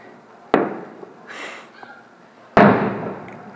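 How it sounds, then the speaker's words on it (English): Two loud fireworks blasts from a Fourth of July display crack sharply about two seconds apart, each with a booming decay, and a voice reacts briefly between them. "All those bangs are, oh God, how loud are these?"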